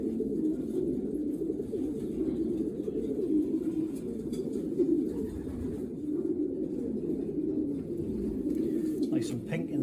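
Pigeons at a racing pigeon loft make a continuous low cooing chorus throughout, steady and close, with a person talking faintly underneath.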